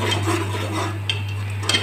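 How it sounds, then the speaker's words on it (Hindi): Dry spices frying and being stirred in a pan for egg chicken curry, a steady soft scraping sizzle with a few light utensil clinks, close and alone over a constant low electrical hum. "ये देखिए, ये अच्छे तरीके से भून रहे हैं।"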